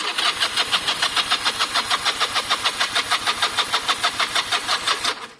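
A stone-cold motorcycle engine is cranked on the electric starter with a low battery, a rapid steady chugging of starter turns repeating evenly for about five seconds before cutting off, close and loud with no talk.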